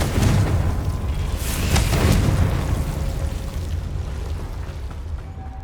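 Confringo spell blast in Hogwarts Legacy, a loud, sustained booming explosion with a rumbling roar that slowly fades, and no speech.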